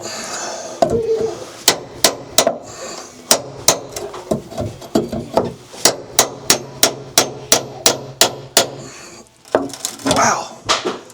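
A hammer strikes old closet wood in a 1901 house with sharp, loud, close blows, some in quick steady runs and others spaced apart, and a voice speaks briefly in the gaps.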